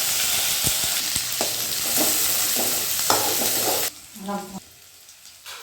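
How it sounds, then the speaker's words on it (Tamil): Onions sauté in oil with mustard seeds during tempering, a close, steady sizzle punctuated by clicking stirs for about four seconds before dropping to near quiet with a brief voice-like murmur. "நல்லா வெங்காயம் வதங்கணும்."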